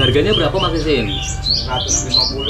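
Bright black-winged starling chirps and whistles ring out close by at a small roadside bird shop while a man and another person talk over them.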